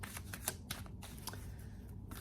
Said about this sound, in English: let's lay out some cards here